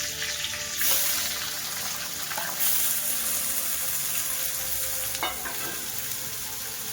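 Onion frying in hot oil with bay leaf for a jackfruit curry, a loud bright unbroken hiss with a few spoon scrapes, close up and without talk.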